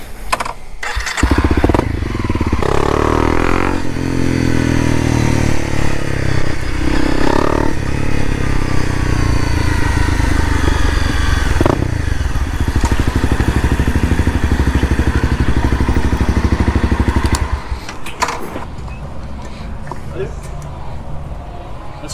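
A Honda CRF250L dual-sport motorcycle fitted with Kenda 270 tyres rides along, its engine droning loud and steady up close with wind rush before cutting off near the end, and a rider talks over it.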